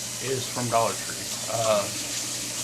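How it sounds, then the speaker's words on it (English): Old water poured out of a cup into a running sink, a continuous watery trickle and splash under a person's speech. "Let me get this old water out of here."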